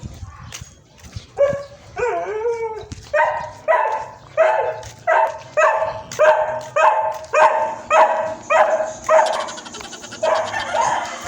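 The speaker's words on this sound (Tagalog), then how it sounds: "narinig nyo na nga pala ang sinabi ng mga aso" Stray dogs bark in a steady series of loud, close yelps and woofs, roughly one per second, with whimpering yips at the start and no talk over them.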